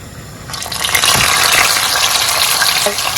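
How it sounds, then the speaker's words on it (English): Loud, dense sizzling of tilapia frying in shallow oil, swelling sharply after a brief quieter start and crackling steadily to the end. "so we'll go ahead and fry our fish"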